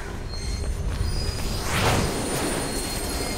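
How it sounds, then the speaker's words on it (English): A train rushes through a tunnel in the video game Mirror's Edge: a dense roaring rumble with rail screech that swells to a peak midway and stays loud. "There's a train coming behind you."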